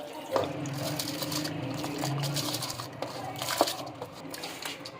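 Soaked basmati rice being drained for biryani, with a steady wash of pouring, trickling water running throughout, close and moderately loud, faint background voices underneath.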